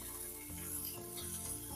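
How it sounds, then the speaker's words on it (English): Leg of lamb roast browning in hot fat inside a pressure cooker pot, a steady close sizzle with soft crackles and occasional scraping bumps throughout. "I'm going to continue just browning all of the edges of this roast"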